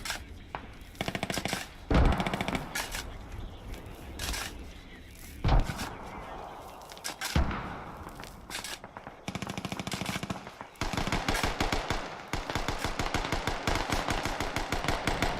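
Rapid machine gun fire from an MG bunker in the tactical shooter Squad, on the Kamdesh map, rattling in long repeated bursts with a few heavier booms between them, fairly close and steady, with a brief voice.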